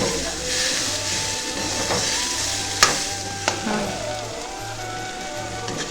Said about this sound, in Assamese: দি পেলাই মছলাখিনি মিক্স কৰি অলপ সময় লৰাই ল'লোঁ।